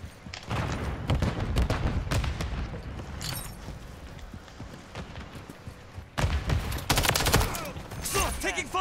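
Bursts of gunfire and thuds from Call of Duty: Modern Warfare III multiplayer come in scattered volleys with heavier bursts near the end, all fairly quiet and mixed with background game noise.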